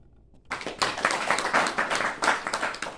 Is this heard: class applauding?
yes